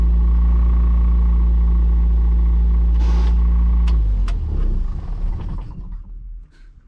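A carbureted car engine after a Seafoam treatment, heard as a loud, steady low idle that rises into rougher revving and fades toward the end.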